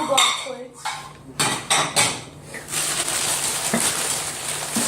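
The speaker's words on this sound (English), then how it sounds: "Oh, little black plates." Small black plates clink and clatter against each other as they are handled and stacked, a few sharp ceramic knocks followed by a continuous rustle of handling, loud and close.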